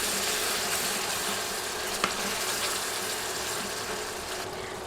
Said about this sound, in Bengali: টক দই দিয়ে মশলার সাথে ভালোভাবে মিশিয়ে দিতে হবে